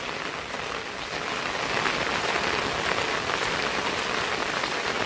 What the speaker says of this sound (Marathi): कारण पाऊस पण खूप आहे